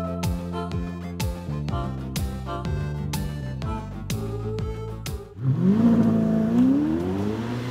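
A Ferrari F8 Tributo engine accelerating hard through about six rapid upshifts, each a rising roar cut by a sharp shift. Then it settles into a lower, droning cruise with a slowly climbing tone.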